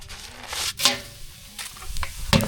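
Eggplant, onion, curry leaves and green chillies are sautéed in a pan with a low steady sizzle. Loud scraping strokes of the spatula come several times, irregularly spaced, close by, with no voices.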